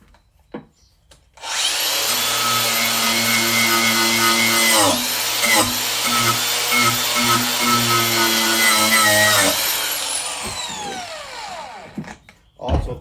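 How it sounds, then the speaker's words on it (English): Wire wheel on a bench grinder brushing a hand tool clean, a loud continuous whirring grind lasting about ten seconds, with pitch dips as the tool is pressed in, then spinning down. "with a wire wheel on it, and we're just going to hit it up super quick"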